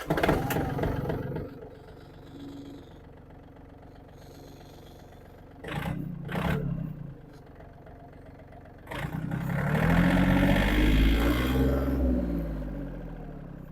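Yanmar FX30S mini tractor diesel engine cranks and catches, then settles into a steady low idle, with two short bursts partway through and a louder, rougher running stretch toward the end.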